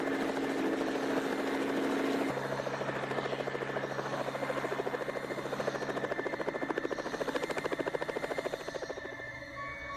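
A Sikorsky helicopter's engine hums steadily while its rotor beats out a fast, even thumping rhythm, heard at moderate distance without any talking.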